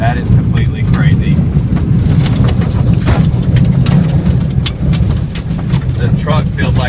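Tornado-force wind and rain pound a truck up close, with a loud roaring rumble and a constant battering of gusts and spray against the vehicle that never lets up.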